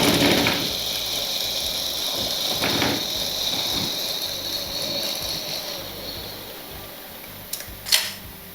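A sewing machine runs steadily, stitching a petticoat (chemise) with a double seam, its whirring mechanism continuous and close, easing off near the end before a couple of sharp clicks.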